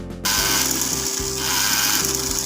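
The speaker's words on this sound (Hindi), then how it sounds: "डालने के बाद आप व्हील को मूव करें और आपकी फिरकी भरी जाएगी।" A sewing machine winds thread onto a bobbin as its wheel turns, giving a steady, close mechanical whir with a faint rhythmic rattle that runs on without a break after a brief quiet start.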